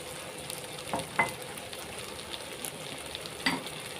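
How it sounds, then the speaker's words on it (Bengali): Spiced eggplant pickle being stirred in a frying pan, with a quiet steady sizzle and a few distinct spoon scrapes and clinks at irregular intervals, close by and alone. "দিয়ে আমি ভালো করে নেড়ে মিশিয়ে নিচ্ছি"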